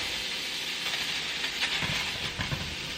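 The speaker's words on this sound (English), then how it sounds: "I'm going to go ahead and toss some of those noodles in a pan like that" Drained pasta noodles hitting a hot pan for garlic spicy noodles, a broad steady hiss with faint soft crackles near the end and no talking.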